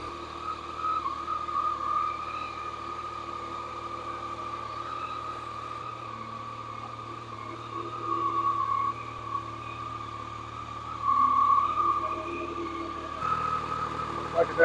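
A Yamaha FZ-09 motorcycle engine idles steadily while warming up, a constant close hum with a faint whine that swells briefly a couple of times.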